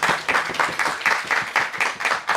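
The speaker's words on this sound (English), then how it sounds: "Let's have big round of applause for all the speakers, all the audience, and the organizers." Applause at the close of an afternoon academic systems event, with bursts of clapping from a modest audience arriving in a loose rhythmic pattern, fairly close and moderately loud.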